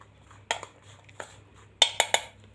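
A spoon clanks and scrapes against a bowl while cake batter with tutti frutti is stirred, several sharp clinks, a pair early and a quick cluster of three near the end, in an otherwise quiet kitchen.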